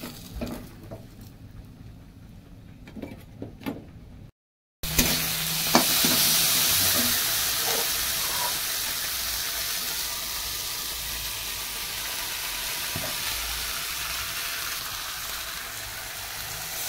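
Eggplant fries in oil in a pan. After a quiet start with a brief dropout, a loud, continuous sizzle takes over, with occasional stirring clicks and spatters.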